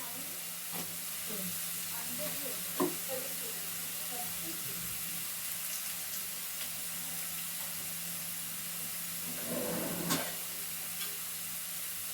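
Bitter gourd fries quietly in a pan with a soft, continuous sizzle and occasional stirring clatters, fairly faint and low.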